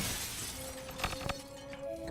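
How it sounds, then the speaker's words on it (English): Broken glass falling as a sound effect in a VR film, heard as a couple of sharp shattering crashes with small tinkling fragments over a steady low background hum. "you just saw that broken glass fall down in front of me"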